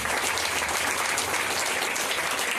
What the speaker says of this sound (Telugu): దీనికి బాగా చప్పట్లు కొట్టాలి.